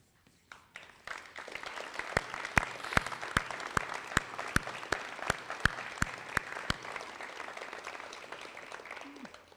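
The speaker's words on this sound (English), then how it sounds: "Graduates, if you please stand and join me in a round of applause for those who support you and have been here for you today." Graduation audience at a law enforcement academy ceremony clapping steadily for nearly ten seconds, with sharp individual claps standing out near the recording point over the wider room.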